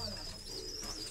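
High-flying pigeons kept in a cage coo in a low, continuous murmur over a faint steady hiss, with no clear voices.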